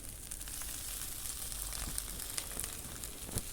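Pieces of puffed rice dhokla roast in a hot pan with a soft, steady sizzle and faint crackles, quiet and close, with no voices.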